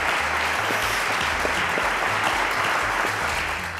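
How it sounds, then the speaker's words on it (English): A studio audience on a televised quiz show applauds, loud and sustained clapping from many hands that runs steadily and eases slightly at the end. "A round of applause to Emmanuel and Favour."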